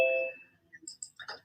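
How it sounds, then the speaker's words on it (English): A doorbell chime rings once in a room while someone is let in during a COVID hearing. A bright electronic ding fades away, followed by a few soft, faint clicks. "the doorbell of letting somebody in the room bleeped you out a little bit"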